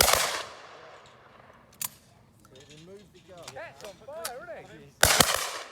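Shotgun shots fired at clay targets on an outdoor shooting range, with two loud sharp blasts at the start and end, a smaller click of the action between them, and people talking in the middle.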